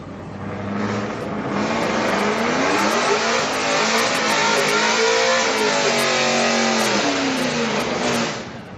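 A red Ford F-150 racing down the strip at a Friday street car night at HMP, engine revving hard with rising and falling pitch, loud up close and then fading away, with no voices.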